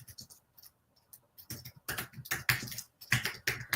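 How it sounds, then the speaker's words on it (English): Fingers tap on a computer keyboard in irregular bursts of crisp, close clicks, starting sparse and then quickening into denser runs of keystrokes with short pauses between them, and no talking. "I'm just typing in fall vintage collection."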